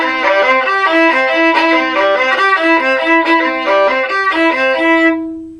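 Solo violin plays two quick runs of sixteenth notes from a song, mixing down and up bows. The notes are bright, close and clearly separated, with a final note held briefly before stopping.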